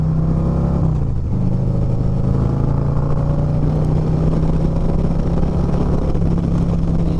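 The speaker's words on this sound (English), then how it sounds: "that exhaust sounds amazing" A 2024 Harley-Davidson Street Glide's exhaust drones steadily and loudly while riding, with a low rumbling tone that dips briefly near the start, no speech.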